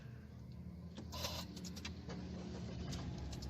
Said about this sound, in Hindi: ये जी गाड़ी हमारी स्टार्ट हो चुकी है।